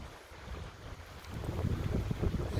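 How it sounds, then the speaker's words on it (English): Wind blowing outdoors near water, a gusty rumble buffeting the microphone, growing louder and rougher in the second half, with no voices. "Okay, a little bit of a wind."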